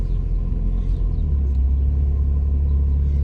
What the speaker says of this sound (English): It's moving. We're driving.